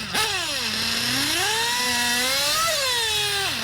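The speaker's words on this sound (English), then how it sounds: "It revs up. That's too lean on top, way too lean on top." A nitro RC car engine with a too-lean top-end mixture revs, rising and falling in a high, buzzing whine, loud and close, climbing, holding and dropping back.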